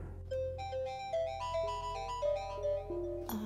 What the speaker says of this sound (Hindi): सर मेरे घर से फ़ोन आ रहा है, मैं जरा सुनूं?